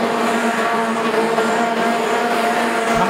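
Stock cars, F2 and saloon classes at the World Semi Finals, roar continuously around an oval turn, a dense, loud mix of engines with a faint hint of tire scrub.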